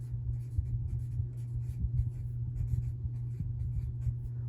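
A pen scratches across paper as a note is written by hand, soft close scribbling strokes in quick irregular bursts over a low steady hum.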